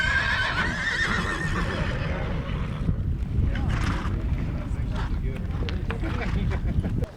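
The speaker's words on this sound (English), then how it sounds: "The horses come charging out of the big holding corral" A horse whinnies loudly at the start, then a herd of horses charges out of a big holding corral, hooves thundering and clattering amid wind and rumbling motion, with talking heard at times.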